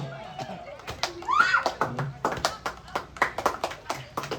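Audience clapping at an Onathallu (Onam fight) demonstration at Meenkuzhi dam: scattered claps firm up into a steady, fairly close rhythmic clapping, with a voice calling out over the start.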